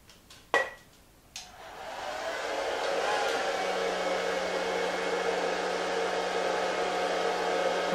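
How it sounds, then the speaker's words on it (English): A hair dryer on a workbench, aimed at an EMCO V10-P lathe spindle during bearing replacement, switches on after a couple of clicks and settles into a loud, steady whooshing blow with a constant motor whine. "just going to stick the hairdryer at that and turn it on"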